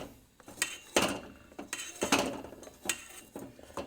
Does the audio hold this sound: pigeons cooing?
no